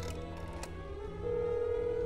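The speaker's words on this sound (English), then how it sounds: "It's not dialing the phone right." A phone in the video game That's Not My Neighbour gives a quiet electronic telephone tone, with a short dialing blip followed by a steady sustained tone heard alone.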